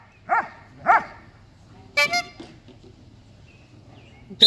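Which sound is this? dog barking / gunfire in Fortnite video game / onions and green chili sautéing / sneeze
dog barking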